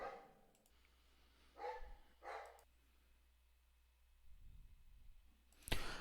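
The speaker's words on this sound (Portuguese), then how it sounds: "Vou dar uma pausa rapidinha só para o cachorro sossegar." A dog in a home office barks in a few short, separate bursts against a quiet room, with a low steady hum underneath and a sharp sound near the end.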